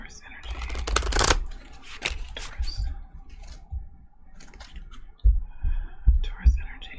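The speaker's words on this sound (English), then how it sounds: "If you do not like the shuffling," A deck of tarot cards is shuffled up close in quick riffling bursts, with soft card clicks and taps between them. A voice whispers under the shuffling.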